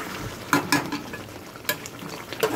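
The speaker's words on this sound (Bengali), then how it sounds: "প্রথমে মাংসটাকে ভাজছি আমি, এই তেলের মধ্যেই মাংসটা ভেজে নেবো" Chicken meat frying in hot oil while being stirred in a pan, with a steady crackling sizzle and a few sharper scrapes and clatters of the spoon, fairly close, with no talk.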